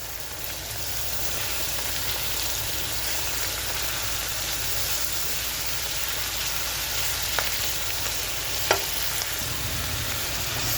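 Vegetables for a beef vegetable sauce fry in a pan with a steady, dense sizzle and crackle, broken by a couple of brief clicks of a utensil toward the end.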